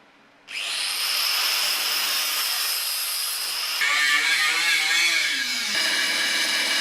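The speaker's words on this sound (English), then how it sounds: "I cleaned the welds and ground them down with a finger sander" A power tool whines into life and keeps grinding loudly and continuously, its pitch shifting slightly as it bears down on metal: a finger sander grinding down welds on a BMW E30 325i chassis.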